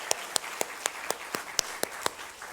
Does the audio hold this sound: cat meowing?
no